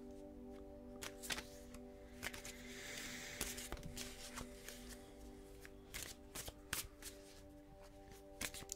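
A deck of playing cards being shuffled by hand, with repeated riffling bursts and sharp snaps recurring through the clip over a steady background hum, close and fairly quiet, with no talking.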